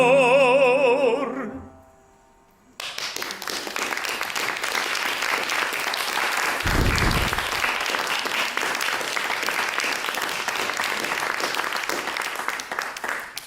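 An audience breaks into sustained applause after an operatic singing performance, steady dense clapping that follows the fading end of the music.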